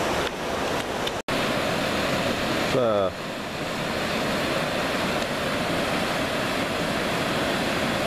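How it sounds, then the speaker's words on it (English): Elliot Creek flows along a trail, a steady, fairly loud rushing wash of water that fills the whole stretch, with a short gap and a brief voice near the start. "a little bit more of Elliot Creek"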